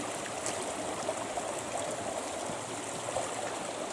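River water flowing steadily at a hiking track crossing on the Mangatoa Track, a soft continuous rushing and trickling babble at moderate distance, no voices.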